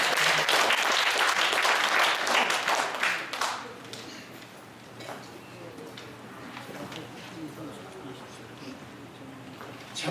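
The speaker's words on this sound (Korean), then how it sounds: "여기 다시 한번 크게 박수 해주세요" An audience at a Korean senior association's year-end party claims loudly at first, then the clapping thins out and fades to a few scattered claps within a few seconds.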